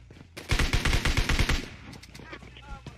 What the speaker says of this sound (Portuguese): Ele tá atirando aqui fora